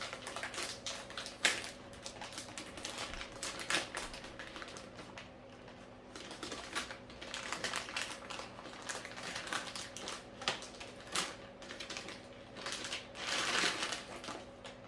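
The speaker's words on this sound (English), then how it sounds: "We're going to go ahead and open this up, which is taped shut." Quiet, close crinkling and tearing as tape is pulled off a cardboard box holding an Asus Prime Z690-P WiFi D4 motherboard, with faint rustling, soft taps and a light background hum, and no talking.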